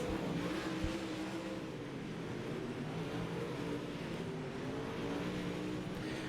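UMP modified race cars roar around the one-lane Fairbury Speedway oval, a steady, distant engine drone with revving swells and no voices.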